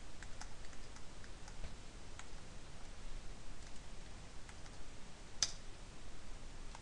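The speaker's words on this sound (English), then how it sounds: "I'm gonna type some thing randomly." Random typing on a computer keyboard: sparse, quiet key clicks at uneven intervals over a soft steady hiss, with one sharper click near the end and no voices.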